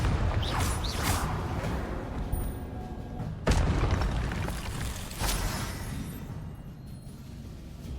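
Confringo, a fiery blasting spell, strikes in a Harry Potter wizarding game with one sudden sharp boom midway through, surrounded by softer whooshes and mechanical clanks of spell combat.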